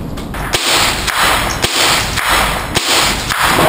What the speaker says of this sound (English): We're shooting guns!